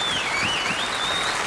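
A studio audience applauds Fozzie Bear on The Muppet Show, a steady dense wash of clapping that fills the whole short stretch at a moderate, even level with no voices on top.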